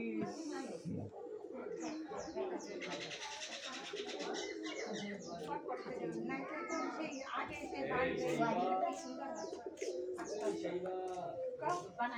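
Pigeons coo softly in the background while people talk over them for most of the clip.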